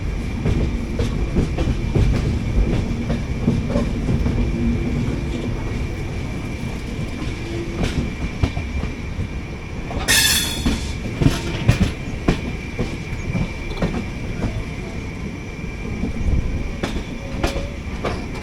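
Shirdi–Mysuru Weekly Express rumbling steadily as it joins the main line on a left curve near Guntakal, with continuous wheel and rail noise, rhythmic clatter and a brief burst of squeal midway.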